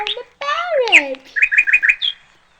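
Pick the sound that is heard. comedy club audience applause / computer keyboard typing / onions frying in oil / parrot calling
parrot calling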